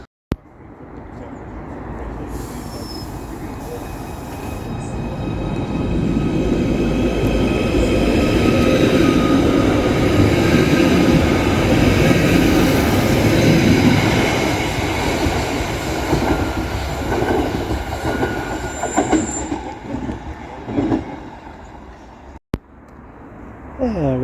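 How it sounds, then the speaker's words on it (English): Merseyrail train at Hooton railway station, heard as a loud, close rumble and clatter of a passing or arriving electric train that swells and fades over about twenty seconds, with faint voices nearby. "This is Hooton railway station, operated by Merseyrail."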